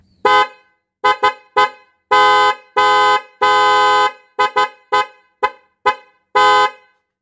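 A cheap aftermarket BMW-style European car horn honks about a dozen times in quick, loud bursts, some short toots and some longer blasts, close by with silence between.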